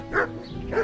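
A dog in the medieval game Kingdom Come: Deliverance gives two short barks, close and clear, with a brief gap between them.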